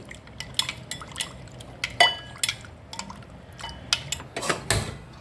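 A spoon stirs cornflour into coconut milk in a bowl for coconut pudding, with close clinks and scrapes against the bowl and soft liquid sloshing in a brisk uneven rhythm, alone without talking.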